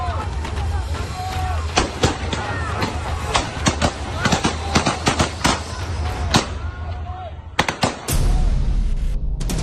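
Gunfire from Russian soldiers at Ukrainian civilians in wartime rings out as many sharp, uneven shots, loud and scattered over about nine seconds, with a crowd and voices beneath them and a harsh burst of noise at the end.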